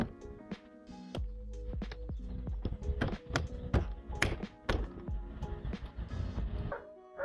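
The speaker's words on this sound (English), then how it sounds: "Now push all the clips around the panel perimeter." Clips around the perimeter of a car door panel are pushed home in a rapid, irregular series of close taps and thumps, with a dog yipping and barking faintly in the background.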